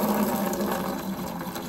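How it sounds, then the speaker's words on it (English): Water runs freely out of a compressed air tank after a hydrostatic pressure test, a steady, close, continuous gushing flow with no talk. "Now it's free flowing, and then it's just gravity letting it drip."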